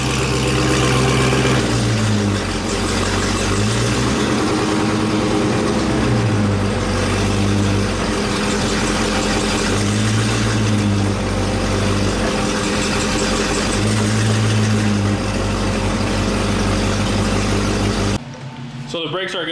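Engine of a Chrysler 300 with a swapped Demon engine, running steadily nearby with a rough idle and periodic rising revs, then cutting off abruptly at the end; a voice talks over it throughout.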